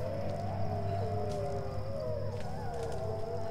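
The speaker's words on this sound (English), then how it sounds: "There's a lot of wolves." Drawn-out wavering howls from wolves in the video game Tomb Raider, several overlapping tones rising and falling steadily over a low rumbling game backdrop, moderately loud and with no talk.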